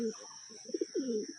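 A pair of old Lotan pigeons perched at home give soft repeated cooing notes close by, with a steady high-pitched hum in the background and a voice talking over them.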